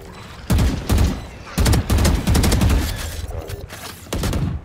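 Gunfire in a tactical shooter video game: repeated loud bursts of rapid automatic fire in several clusters, close and dominant, with no talk over them.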